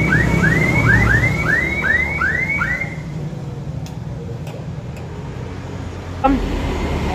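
A motorcycle remote alarm chirps in a quick series of about eight rising electronic tones, loud and close, followed by a few faint clicks and a short beep.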